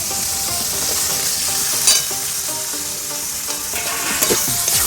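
Boiled drumstick stems and shrimp stirred into a sizzling spice masala for a dried-fish curry. Continuous close frying hiss with scraping stirs, over faint background music.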